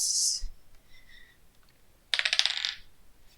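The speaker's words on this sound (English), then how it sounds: "I'm gonna roll my blue dice." Blue dice are rolled, a quick burst of rattling clatter lasting under a second, preceded by a few faint clicks, close and fairly loud.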